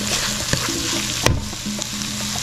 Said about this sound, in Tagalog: Maglagay na tayo ng malagkit na bigas. Isasabay lang natin sa paggisa ito.